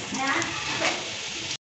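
Two small onions sizzling in 250 grams of hot ghee for chicken nahari, a steady close frying hiss that runs for under two seconds and then cuts off, with faint stirring.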